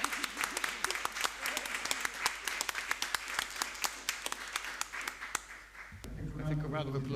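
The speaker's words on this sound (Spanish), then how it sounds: "la ronda de aplausos en tu país natal" An audience applauds at a talk on democracy and social change, steady dense clapping for several seconds that gives way to a voice speaking at the end.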